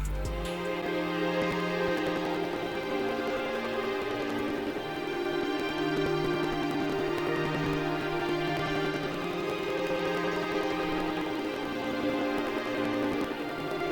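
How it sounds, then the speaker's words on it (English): A sustained synthesized string section from an SRX Orchestra patch plays a slow, layered city pop chord pattern, steady and full throughout with no voices. "So this is what the strings sound like."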